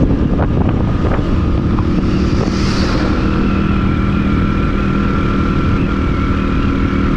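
Strong wind buffeting the microphone with a constant low roar, a faint engine-like hum running underneath.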